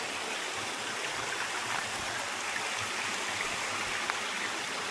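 Small waterfalls at Ambon-Ambon Falls in Tagaytay pour in a steady, even rush of splashing water, close and continuous throughout with no voices.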